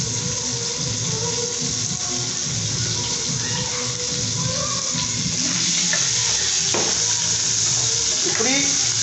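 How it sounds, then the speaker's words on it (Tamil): About 100 grams of onions frying in a pan until golden brown for Sri Lankan village-style parippu curry, with a steady close sizzle, occasional stirring scrapes and faint background noise. "வெங்காயத்தை வந்து நல்லா பொன்னிறமாக வாட வரும் வரைக்கும் பண்ணிக்கோங்க"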